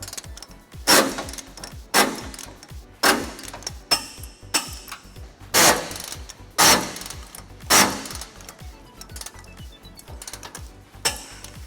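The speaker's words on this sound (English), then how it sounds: "We're going to be using a 19mm socket to tighten all those down." A ratchet with a 19mm socket tightening trailer hitch bolts on a 2011 Ford Ranger, about eight loud, close, rhythmic bursts of clicking, each about a second apart with brief pauses between, no talking.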